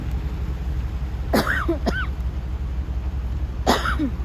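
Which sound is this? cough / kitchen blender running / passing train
cough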